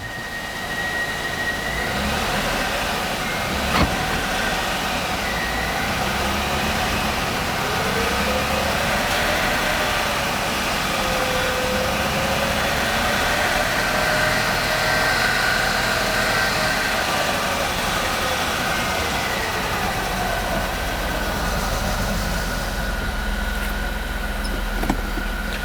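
A 1998 Chrysler Town & Country engine idles steadily after a transmission and radiator replacement while its cooling system is bled and it warms up, a loud, close, continuous drone with slowly shifting tones and no talk.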